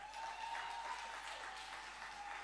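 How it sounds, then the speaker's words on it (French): Applause from a live-show audience for a chorus singer, a brief, fairly faint patter of clapping that holds steady, heard at a distance with a thin tone ringing above it. "Des applaudissements pour elle."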